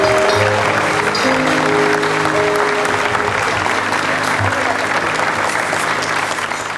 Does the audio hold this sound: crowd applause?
yes